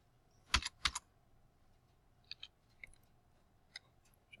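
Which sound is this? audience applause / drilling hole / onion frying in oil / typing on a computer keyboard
typing on a computer keyboard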